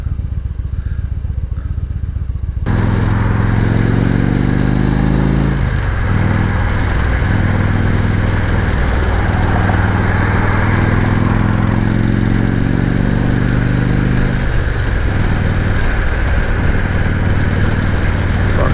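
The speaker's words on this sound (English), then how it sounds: "Fuck yeah, New York traffic." A motorcycle engine runs loud and close in Brooklyn, New York street traffic, a steady throbbing drone with shifting revs that rises sharply after a quieter opening few seconds.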